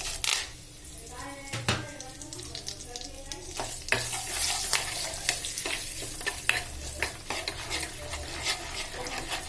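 Asafoetida and a prepared tempering tipped into a hot pan for instant rava uttapam with spicy onion-tomato chutney, hissing in a sustained sizzle while a spoon scrapes and stirs with clinks of metal against the pan.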